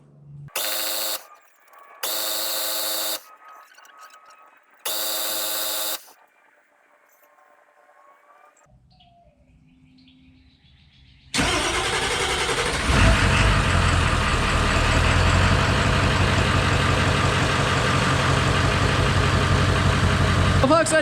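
A 1994–97 7.3 Powerstroke diesel truck with a drained oil rail: three loud warning chimes, a short low cranking stretch, then the engine catches and settles into a loud, steady, rumbling idle up close.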